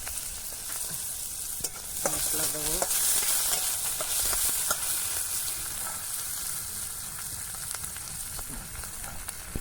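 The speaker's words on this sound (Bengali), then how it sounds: "জিরের মধ্যে পেঁয়াজ দিলাম ভাজা হোক" Sliced onion hits hot oil with cumin seeds and fries with a loud, continuous crackling sizzle, stirred now and then. A voice speaks briefly over the frying.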